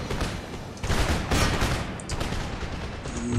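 Video game gunfire from a military grand strategy game set in the American Empire, a dense rolling fusillade of many overlapping shots, loud and sustained for several seconds with no speech.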